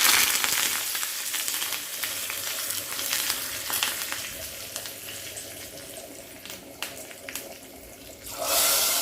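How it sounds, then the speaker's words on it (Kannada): Mustard seeds, chili and curry leaves sizzle and crackle in hot oil as a tempering for a taro-leaf kootu sambar, a steady close frying hiss with scattered pops, ending in a louder burst. "ಇದೀಗ ಇದಕ್ಕೊಂದು ಒಗ್ಗರಣೆ ಕೊಟ್ಬಿಡು. ಸ್ವಲ್ಪ ಸಾಸಿವೆ ಹಾಕಿದ್ದೀನಿ"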